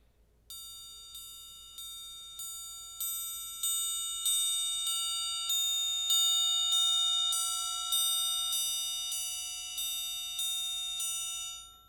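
A concert triangle struck with a beater rings out in about a dozen evenly spaced strikes, each bright, clangy, bell-like tone layering over the last and sustaining close and clear.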